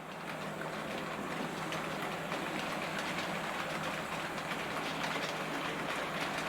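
A Hornby LMS Stanier Black 5 model locomotive runs steadily through a tight radius 2 curve and point on a model railway, giving a continuous, even rolling rumble with a faint hiss and no talking.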